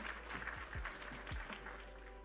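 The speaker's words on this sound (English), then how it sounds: "Hey, what happened to my clap?" A short canned applause sound effect, faint and somewhat thin, with a few low thumping tones underneath as it plays during a livestream.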